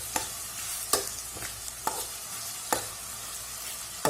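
Ginger garlic paste fries with spices in a pan for a capsicum and potato sabzi, a steady soft sizzle broken by several sharp stirring scrapes spaced about a second apart, close and fairly quiet.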